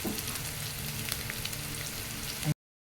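Onion and garlic fry in a pan with a continuous close crackling sizzle, broken by light scraping from stirring, then ending abruptly in silence.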